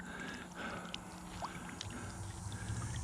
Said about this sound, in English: that's squirting so good, it's going to squirt my water right out of the pond